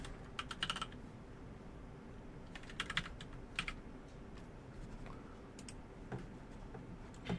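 Someone types on a computer keyboard in short, irregular bursts of soft clicks, close and fairly quiet, with no talking.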